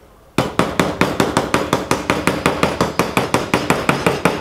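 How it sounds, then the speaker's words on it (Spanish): A hammer strikes a cold rivet to spread it and set it through two pieces of leather, about twenty sharp, evenly spaced blows in a steady rapid rhythm, close and loud with no talking. "empezar a golpear el perno para que se empiece a abrir para todos los lados"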